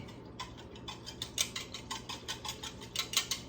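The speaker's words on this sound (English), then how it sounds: "Add a tablespoon of my tapioca flour and begin to blend that up. I'm just going to use a little whisk." A small whisk clicks rapidly against a bowl while blending a tapioca flour thickener, a quick, irregular run of light metallic taps over a low background hum.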